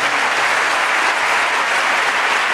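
An audience claps together at a memorial speech, a dense, loud, sustained wash of applause filling the hall for a few seconds without a break.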